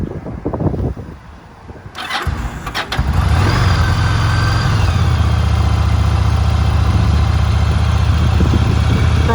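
A stone-cold 2007 Yamaha XVS 1100 Drag Star cruiser motorcycle fires up with the choke on, then settles into a loud, steady, close idle.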